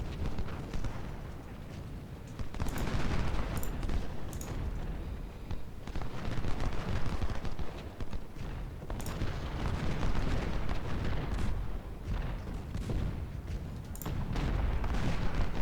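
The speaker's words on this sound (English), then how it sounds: "Go on, another volley." Rolling musket volleys and booming artillery fire in the Civil War strategy game Ultimate General: Civil War, a dense, continuous battle din with repeated crackling bursts of gunfire and sharp cannon reports.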